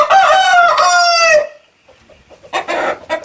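Rooster crowing loudly and close inside a shed chicken coop with hens, one long harmonic crow followed by a brief pause and then a burst of clucking.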